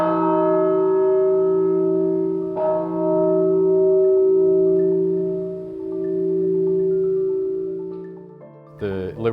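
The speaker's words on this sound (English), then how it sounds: "The Liberty Bell is a type of English church bell." The Liberty Bell, an English-style church bell, struck twice with a bright, sustained ringing tone that hums and slowly beats as it decays, loud and alone before a brief different sound at the end.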